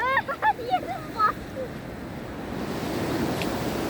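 Rough sea waves break on a sandy beach, a broad rushing surf mixed with wind noise that swells toward the end, after a few short voice exclamations at the start.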